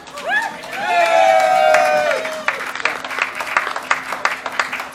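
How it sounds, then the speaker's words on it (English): Audience applause fills the room, steady clapping with some cheering, while a voice speaks over it briefly at the start. "It's great to hear this applause."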